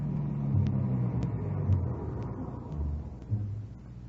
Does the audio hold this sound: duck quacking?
no